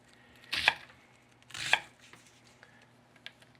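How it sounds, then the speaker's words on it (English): Two crisp, close knife chops through onion on a cutting board, spaced about a second apart, with quiet room tone between. "A couple of chops down here."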